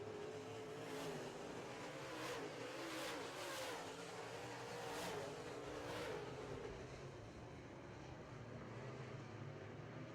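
Modified race cars roar around a dirt-track heat race, a steady, loud and slightly distant engine drone with rising and falling revs as cars pass, and no voices.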